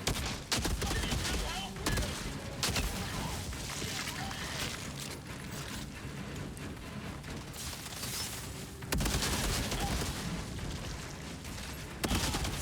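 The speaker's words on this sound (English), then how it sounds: "It's pretty satisfying to get these explosions on the enemies you kill with this gun" Dense, continuous gunfire mixed with explosions from the video game Outriders, loud and close throughout, with sharp bursts near the start, middle and end.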